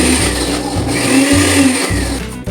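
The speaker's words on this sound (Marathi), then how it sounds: "सर्व साहित्य आपल्याला जाडसर भरड मिक्सरमध्ये वाटून घ्यायचे आहे" A mixer grinder coarsely grinds green chillies and a small piece of ginger, its loud motor whirring in repeated short pulses that start and stop with a steady electric hum.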